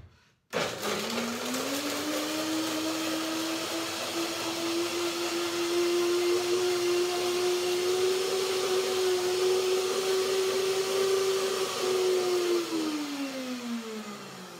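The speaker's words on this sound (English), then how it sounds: "You can also hear it, the blender, the sound goes up" A blender starts abruptly and whirs loudly at a steady pitch for several seconds while blending cilantro cashew pesto, its tone rising slightly before it winds down near the end.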